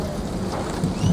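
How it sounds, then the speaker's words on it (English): Heavy rain pours down during a bad thunderstorm, running off the corner of a house as a steady, loud, dense roar of falling water with a low rumbling undertone, no voices. "It's a pretty bad thunderstorm"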